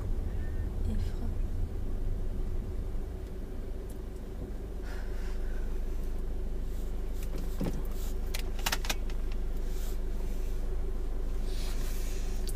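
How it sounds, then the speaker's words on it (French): Car interior during a driving lesson as the vehicle rolls on its own and eases to a stop with clutch and brake, a low steady road rumble with faint clicks and rustles. "on va laisser la voiture rouler toute seule et je te laisse t'arrêter tranquillement"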